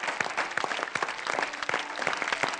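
Studio audience applause on a Hindi television show celebrating its 400th episode, a dense, continuous burst of many hands clapping, loud and close throughout with no voices over it.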